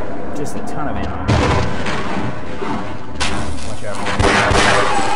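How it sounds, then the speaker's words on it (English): Gunfire in the Half-Life video game, loud repeated bursts of shots crashing over the game's constant background noise, with a player talking through it. "The gunshots are loud."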